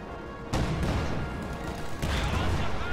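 High explosive rounds firing and bursting in a WWII strategy video game, with a loud sudden blast followed by a rumbling roll and a second heavy impact over busy battle noise.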